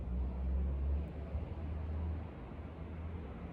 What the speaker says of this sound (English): distant traffic,